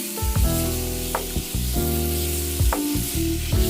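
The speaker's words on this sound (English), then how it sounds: "in the same pan, let's fry our onion, garlic" Onion, garlic and a little plain wheat flour fry in a pan, a close, steady sizzle with occasional scraping stirs breaking through.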